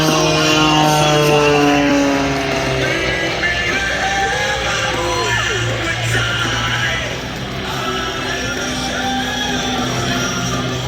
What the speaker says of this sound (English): During today's performance, Rob will be experiencing more than 11 positive Gs settling into the cockpit at 9 negative Gs